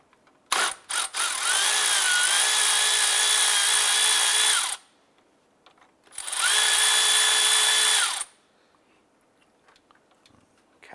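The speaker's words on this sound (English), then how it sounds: "Using our 10mm socket and extension, we're going to go ahead and undo the 10mm bolts holding the fan." A 10mm socket on an extension spins out bolts holding the radiator fan shroud of a 2001-2005 Honda Civic, producing two loud sustained whirring runs of a few seconds each, separated by silence.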